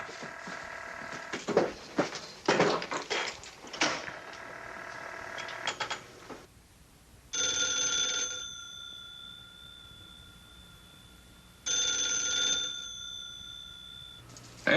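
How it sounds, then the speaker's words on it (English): A 1950s telephone bell rings indoors in two long bursts separated by a pause, loud and alone. Rustling and movement noises come before the rings. "Answer your phone, Blondie."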